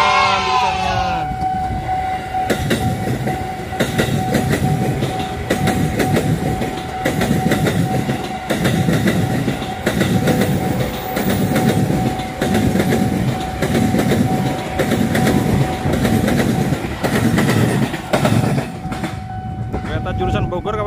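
An electric KRL commuter train rolls past the Citayam level crossing at close range, a steady loud rumble with regular clickety-clack of wheels over rail joints throughout.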